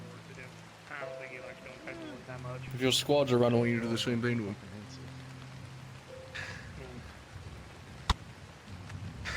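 Steady rain falls in the VRChat role-play game Fractured Thrones, a continuous hissing patter running beneath several people talking.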